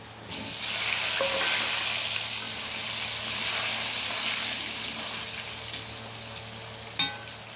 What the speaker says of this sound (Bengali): তো এখন আমি আলুগুলো ভেজে নেব